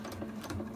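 A sewing machine stitches a laptop bag along its zip tape, running fast and evenly in a rhythmic mechanical chatter. The burst is brief and close.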